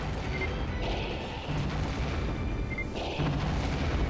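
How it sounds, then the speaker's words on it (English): An explosive canister blowing up in the Star Fox Assault video game, a loud booming blast with mechanical creaking game sounds around it, over a dense steady roar and with no voices. "I just blew up an explosive canister"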